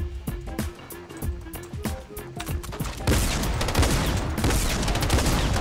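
Gunshots in the video game Fortnite, several sharp shots early on, then dense rapid gunfire and explosive noise filling the rest of the clip.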